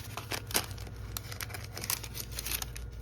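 Someone handles a letter written on thin airmail paper, making soft close crinkling and rustling with small irregular crackles, quiet and continuous.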